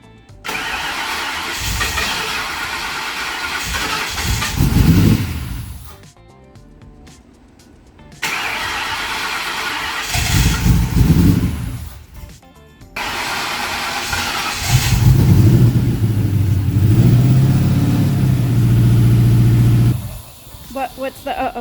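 A car engine cranks and tries to start in bursts separated by pauses, catching briefly with rough revving and hissing; people talk and exclaim over it.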